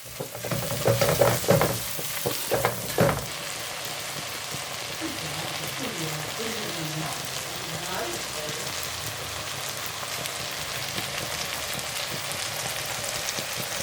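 Chopped tomatoes mixed with turmeric cook down in a pan with a steady, continuous sizzle, a few louder stirring scrapes near the start and faint talk over the top.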